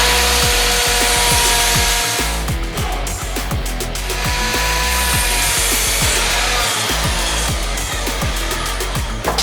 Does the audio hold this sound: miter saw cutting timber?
yes